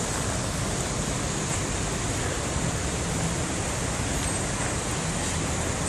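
River water flowing on Malinovsky, a dense, loud, even rush of broadband noise held steady throughout, close by with no voices.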